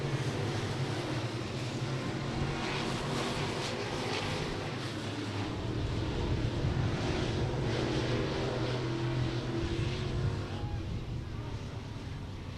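Race cars on hot laps at Beckley Motor Speedway, a continuous roar of engines droning at a steady loud level with a faint voice underneath.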